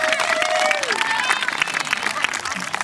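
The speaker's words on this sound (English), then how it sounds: "That truly deserves a set of applause." Applause and scattered cheering from a crowd at an eighth grade moving-up ceremony for honor roll students, with whistles and voices mixed into the clapping throughout.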